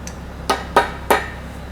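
Three sharp metallic taps as a part of a roller screed is knocked back into place, evenly spaced and close, each a short ringing strike over a quiet background.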